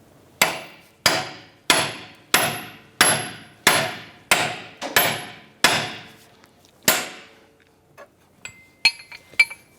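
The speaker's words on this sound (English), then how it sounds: "use a pickle fork to separate the outer tie rod ball joint from the knuckle itself" Pickle fork being hammered to split the outer tie rod ball joint from the steering knuckle on a 2010-2016 Cadillac SRX: about ten evenly spaced, loud metallic hammer strikes close by, then a few lighter clinks and taps.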